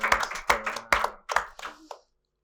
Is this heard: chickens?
no